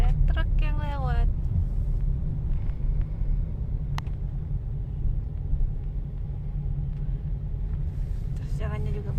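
Steady low rumble of road traffic, cars idling and creeping past in a queue behind a passing truck on a winding road from Banda Aceh toward Takengon, with brief voices at the start and end.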